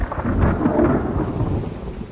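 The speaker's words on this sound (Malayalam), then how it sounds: "നല്ല ഇടിയുണ്ട്" Deep thunder rumbles continuously, heavy and close, with rain hissing steadily in the background.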